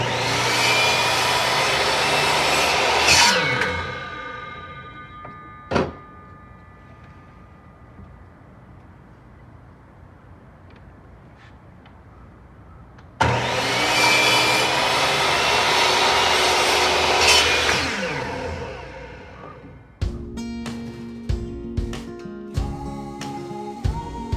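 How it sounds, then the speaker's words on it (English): A tabletop belt sander grinds wooden Jenga blocks in two long, loud, steady bursts of harsh whirring, separated by a quieter stretch with a single knock and followed by scattered clattering of wood. "so now I'm gonna show you how I sand this"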